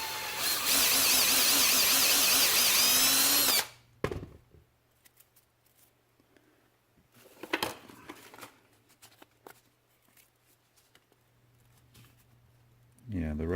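Inside a sandblasting cabinet, a power tool grinds loudly and steadily for almost four seconds, then stops, leaving sparse clicks and knocks before the grinding starts up again at the end.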